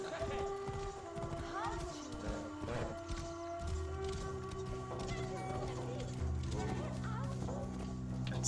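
Horse hooves clip-clopping steadily while riding through the streets of Thebes in Assassin's Creed Origins, a moderate rhythmic gait under ambient city noise, with a voice talking throughout.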